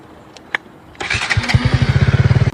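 A KTM Duke 200 motorcycle cranks and fires up, settling into a loud, close, rapid thumping idle after a couple of faint clicks.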